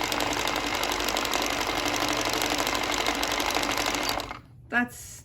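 Sewing machine winding thread onto a bobbin, a loud, steady, fast mechanical whir that stops near the end, followed by a brief click, close up.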